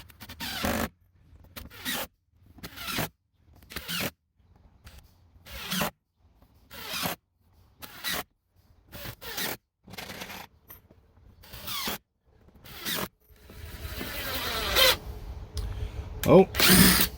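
Power drill driving screws into wooden RV leveling blocks, in about a dozen short whirring bursts separated by pauses, with a longer, louder run of drilling and handling noise at the end.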